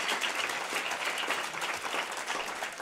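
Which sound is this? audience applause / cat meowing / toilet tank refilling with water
audience applause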